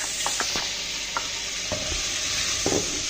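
Mixed vegetables stirred into a pan of softened, mashed tomato, a steady sizzle broken by several scraping stir strokes of the spoon, close and fairly loud with no talking.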